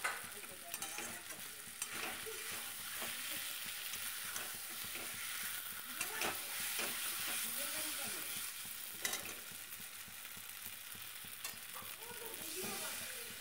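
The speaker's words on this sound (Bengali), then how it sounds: "বেশ ভালো করে কষিয়ে নেব।" Potatoes sizzle and are stirred in a pan while being sautéed for egg curry, a steady close frying hiss broken by scraping stirs, with no talk.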